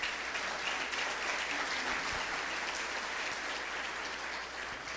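Congregation applauding in a church service, steady dense clapping filling the whole stretch at an even, sustained level with no talk over it.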